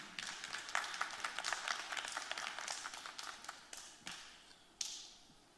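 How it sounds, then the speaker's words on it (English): An audience at a Miami-Dade judicial and District 34 Senate primary candidate forum applauds: a faint burst of many hands clapping, dense at first, then thinning out with a few last claps. "please give a round of applause for the candidates"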